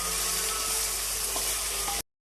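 Spices with turmeric and a little salt fry in a pan for a restaurant-style stuffed brinjal curry, giving a steady, close, continuous sizzle throughout before cutting off abruptly.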